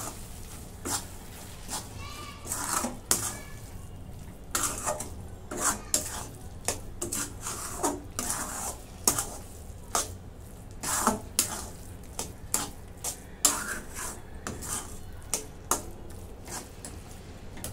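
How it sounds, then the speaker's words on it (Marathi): A spoon stirs and scrapes through thick carrot halwa mixed with almonds in a pan, soft irregular scraping strokes repeating steadily at close range, with quiet background hum and no talk. "सगळं मिक्स करून घेते."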